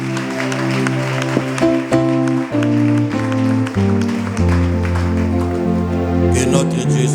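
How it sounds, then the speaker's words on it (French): A church congregation claps along to sustained, chord-heavy music, with the scattered hand claps woven into the loud musical backing for several seconds. "Applaudissons pour le Seigneur."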